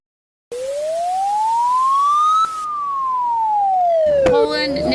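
A Polish emergency alert siren, a loud steady wailing tone that rises and falls slowly over several seconds, joined near the end by a second, harsher layered tone.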